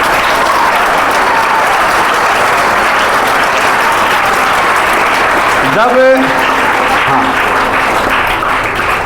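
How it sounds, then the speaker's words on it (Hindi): Loud, sustained applause from a gathering of students for their teachers, a dense wash of clapping throughout, briefly interrupted by a short spoken reply partway through. "उनके लिए भी जोरदार तालियां।"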